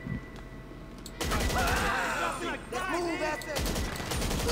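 Enemy gunfire in a GTA 5 shootout during a Clucken Bell raid, rapid bursts of shots layered under game voices and music.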